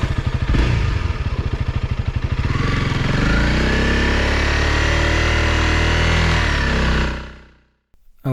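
A Honda CRF300 Rally motorcycle engine ridden through soft desert sand, loud and close, chugging at low revs and then revving steadily before cutting out abruptly near the end.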